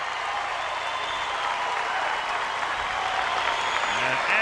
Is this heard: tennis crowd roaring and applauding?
yes